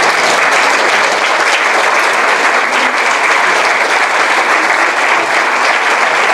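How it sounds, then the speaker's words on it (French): An audience at a talk gives sustained, loud applause: a thick, even wash of many hands clapping together that holds steady throughout, with no voices rising above it. "Je propose qu'on vous applaudisse"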